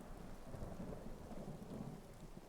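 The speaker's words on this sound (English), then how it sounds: "It's a rainy day." Rain pours steadily with a deep rolling rumble of thunder in a Skyrim storm, an even, moderately quiet wash of rainfall with low booming underneath.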